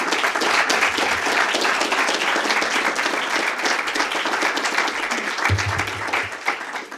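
A lecture audience at a Princeton evening event on faith and politics applauds steadily to welcome a speaker, dense sustained clapping from a large crowd throughout, easing slightly near the end.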